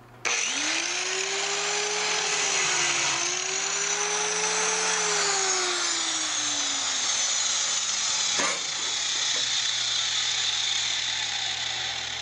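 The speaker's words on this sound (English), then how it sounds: "I think I'm going to attack it first with a regular old grinder" A power grinder runs continuously on a floor for about twelve seconds, a loud steady whine that rises and falls slightly in pitch as the load changes, with a brief dip near the end and no talking.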